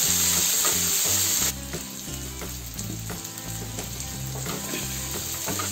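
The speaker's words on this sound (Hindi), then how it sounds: "अब इसमें मैं एक प्याज कटा हुआ है उसको भी डाल देती हूँ, टमाटर भी, और मीडियम आंच में इसको फ्राई होने देती हूँ।" Chopped onion and tomato fry over a medium flame, a loud continuous sizzle with repeated stirring scrapes throughout and no speech.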